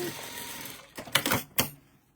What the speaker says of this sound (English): So she has a Bernina sew machine.